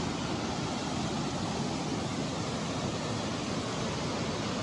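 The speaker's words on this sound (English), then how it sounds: "video of the waterfall." A waterfall at Devil's Bridge pours steadily, a dense unbroken roar of rushing water that stays even and fairly loud throughout, with no one speaking.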